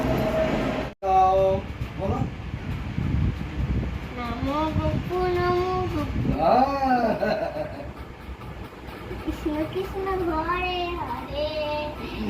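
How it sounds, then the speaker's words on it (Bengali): A train pulls into a station with a continuous low rumble, heard under nearby voices that include someone talking. "ঠিক টাইমেই ট্রেনটা এলো"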